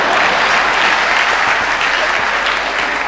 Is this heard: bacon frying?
no